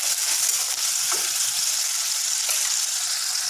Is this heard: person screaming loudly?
no